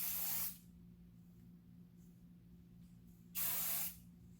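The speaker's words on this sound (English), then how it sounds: "I spread it out as I'm spraying." Hairspray hisses from an aerosol can onto hair in two short bursts, one at the start and another a few seconds later, with quiet room tone between them.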